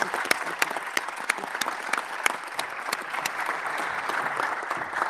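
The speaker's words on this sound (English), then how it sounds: "I invite you to applaud our speakers, our panelists." A conference audience applauds the speakers and panelists after a session on sustainable development goals, a steady, even patter of many hands clapping, fairly soft and distant, continuing throughout.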